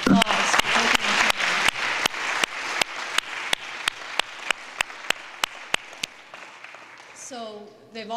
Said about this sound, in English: I think we should all give them a round of applause for taking the time.